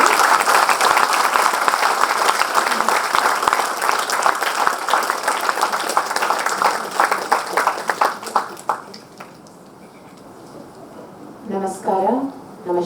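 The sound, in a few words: audience applause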